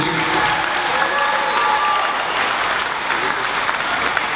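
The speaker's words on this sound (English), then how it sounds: "Thank you very much for your applause and appreciation." Steady applause from a crowd at a dance championship, dense clapping that holds at an even level throughout without a break.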